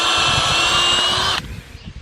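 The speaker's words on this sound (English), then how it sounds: "I'm just drilling through some treated pine to put some lag screws in." A ToolPro 18-volt hammer drill with a 5mm bit whines steadily at close range while boring through treated pine, then stops abruptly, leaving quiet room noise.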